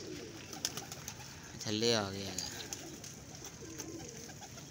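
A pigeon in Lahore gives a soft, throaty coo that rises and falls once, heard faintly beneath someone speaking nearby amid steady outdoor background noise.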